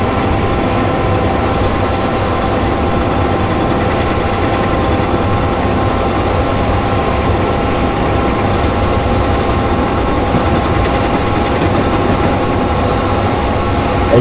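A train rolling on rails in a train-driving game, a loud, steady rumble of wheels and engine with sustained tonal hum, constant throughout with no breaks or speech.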